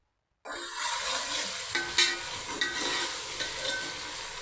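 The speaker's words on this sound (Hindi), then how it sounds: "टमाटर को अच्छी तरह बीच में मिक्स करेंगे ताकि टमाटर अपना कलर छोड़ दें और पक जाएं" Tomatoes cooking in a pan for a cluster bean sabzi start to sizzle abruptly after a brief silence, then a faint steady frying hiss continues with a few light stirring taps, and nobody speaks.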